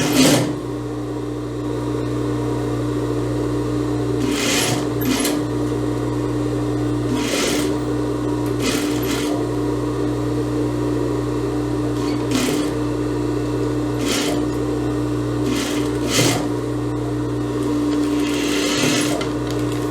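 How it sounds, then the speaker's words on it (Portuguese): An overlock sewing machine finishes the armhole of an eyelet blouse, a steady close mechanical whirr running continuously with brief clicks and pauses as the fabric is guided. "Só dobrar aqui o overlock e passar a costurinha formando o acabamento."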